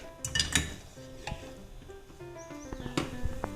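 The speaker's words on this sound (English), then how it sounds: "But continuously stir it until the flour forms a thin line on the pan." Choux pastry dough stirred in a pan over a flame, with a utensil knocking and scraping against the pan in scattered clinks and soft thuds, close and moderately loud, no voices.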